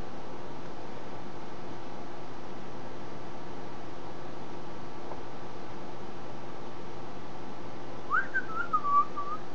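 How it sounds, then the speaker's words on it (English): A person whistles a short, wavering tune near the end, faint and close over a steady background hiss, with no talking. "there I am whistling again"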